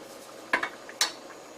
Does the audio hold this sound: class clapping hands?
no